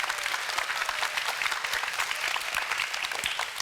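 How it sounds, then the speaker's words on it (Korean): A lecture audience at an education concert in Korea claps steadily and densely for several seconds, a close, sustained round of applause with no speech over it. "다시 한번 박수 부탁드리겠습니다"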